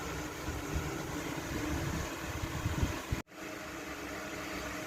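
A Singer 3310/3380 sewing machine running steadily, a dense whirring hum that holds through the clip with a brief cutout just past three seconds before resuming, heard alone.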